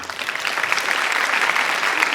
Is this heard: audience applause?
yes